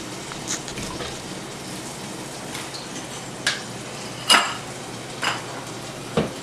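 Soft, steady sizzling of a dough disc for beef turnovers frying in oil, with a few sharp clicks and taps of utensils against a pan.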